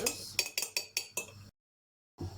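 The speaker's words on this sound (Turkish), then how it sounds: "Yumurtamızı geniş bir kaba alıyoruz. böyle çırpıyoruz" Eggs are whisked in a wide bowl, making six quick, evenly spaced metallic clinks at close range, followed by a short silence and one more brief scrape.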